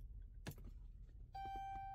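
An ignition key turned in a Dodge Grand Caravan gives a short metallic click and jingle, then a steady dashboard chime begins and holds; quiet and close, with no talking.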